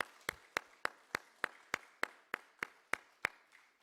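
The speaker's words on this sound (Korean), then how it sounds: "수고한 우리 모든 분들에게 감사의 박수와 격려의 박수 함께 하도록 하겠습니다" A church congregation at a year-end Sunday service claps in steady unison: about eleven sharp, evenly spaced claps in a crisp rhythm, moderately loud in the room, with no talking.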